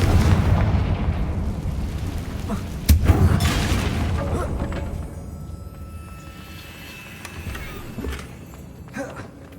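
In Hogwarts Legacy, a Confringo fire spell bursts with a heavy booming explosion, followed by a second sharp blast and rumbling debris that fades out amid scattered lighter crackles.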